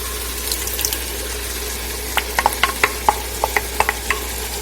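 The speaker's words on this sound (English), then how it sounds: "Stir that in." A quinoa and black bean sauté with marinara sauce stirred in a pan: a low steady background, then a run of close, distinct spoon clicks and scrapes against the pan, with faint earlier taps.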